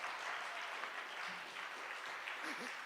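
Church talent show audience clapping, a soft even wash of applause heard at a distance and quite faint, with a brief voice murmuring near the end.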